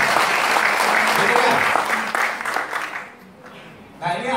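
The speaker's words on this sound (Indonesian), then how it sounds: "Tepuk tangan dulu untuk kita semua." A seminar audience breaks into thick, loud applause that holds for a few seconds, thins out and fades, then a voice starts speaking over the room at the end.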